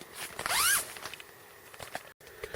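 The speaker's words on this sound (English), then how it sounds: "unzips up the middle" A zipper on the door of a NEMO Frontier 3P tent is pulled open in one quick, close sweep lasting under a second, followed by faint rustling and handling noises.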